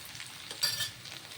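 Bitter gourd frying with onions and turmeric in a pan, a soft continuous sizzle with a brief louder stirring scrape midway, close and without speech.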